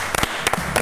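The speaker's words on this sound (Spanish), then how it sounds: "Y un aplauso." Short burst of studio-audience applause on a Spanish-language television panel program welcoming a guest, loud and close with uneven clap bursts.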